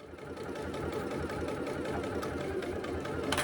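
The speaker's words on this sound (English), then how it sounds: "baste stitch with a longer stitch length all the way around the two pattern pieces" A sewing machine runs steadily on a long basting stitch around two pattern pieces for a hobo bag, a continuous close mechanical whir with fast regular needle ticking throughout and no talk.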